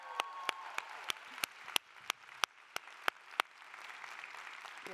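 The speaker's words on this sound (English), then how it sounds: "Please give them a round of applause." Sparse applause for the Chanel team during a leadership talk, a dozen or so distinct claps spaced out, close and fairly faint over a quiet room.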